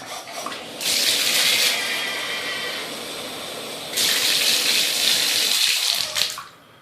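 A kitchen water tap in Flint runs into a jug in two long, loud hissing gushes separated by a brief drop in flow, ending with a splash as it shuts off.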